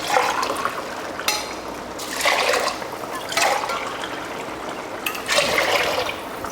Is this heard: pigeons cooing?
no